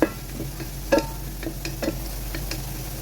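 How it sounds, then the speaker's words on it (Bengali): Bean seeds are sautéed in a pan, a spatula scraping and stirring in short irregular strokes over a faint, low sizzle, close by and without speech. "সিমের বিচিগুলা কষাই নিব"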